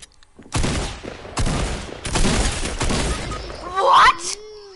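Fortnite assault rifle fire comes in several loud bursts of rapid shots, each lasting about a second and separated by short gaps, followed by a sharp shattering crash with ringing tones at the end.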